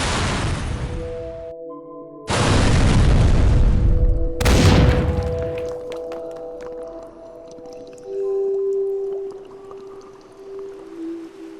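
Audio-drama cannon fire sinking lifeboats at sea: several heavy, booming blasts with long rumbling decays, followed by low groaning, resonant tones like straining hulls and water.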